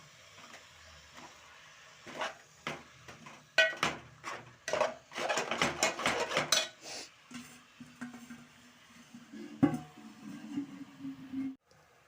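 Spinach for palak fry being stirred in a pan on high flame, irregular clattering scrapes and taps of the spatula against the pan, followed by a quieter low hum at the end.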